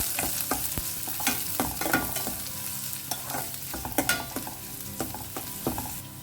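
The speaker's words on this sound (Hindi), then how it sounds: "तो यहाँ पे ना मैंने आधा प्याज को चॉप कर लिया है और अब इसे ना 1 मिनट के लिए भून लेते हैं।" Half a chopped onion fries in a pan with a steady close sizzle, while a spoon scrapes and stirs it in quick irregular strokes throughout, with no talking.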